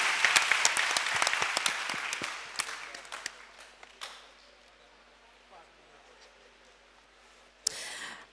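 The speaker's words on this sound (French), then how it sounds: "on applaudit pour le président" An audience applauds the jury president at a debating contest, with loud dense clapping and scattered sharp claps that fade away by the midpoint, then a lone sharp bang near the end.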